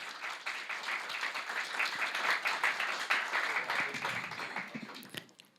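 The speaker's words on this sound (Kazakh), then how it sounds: "бір шапалақ қошемет етіңіз" Audience applause at a Karakalpak stand-up comedy show, sustained clapping from a crowd that holds steady for several seconds, then thins out and fades toward the end.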